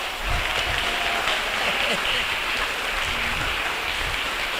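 A church prayer-group congregation applauds in a steady, hissing wash of clapping, with faint voices murmuring underneath.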